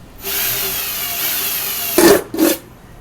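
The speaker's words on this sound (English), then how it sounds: "now I'm going to drill the main holes" A power drill bores pilot holes while building a smelter, whining steadily for almost two seconds, then two short, louder bursts follow, the second one briefer.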